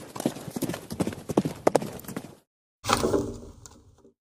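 Horse hooves gallop through woods as an audiobook sound effect, a fast, close clip-clop rhythm that cuts to silence, then returns as a brief louder clatter fading out.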